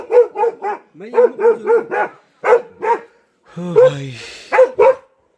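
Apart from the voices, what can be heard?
dogs barking at night after tiger attack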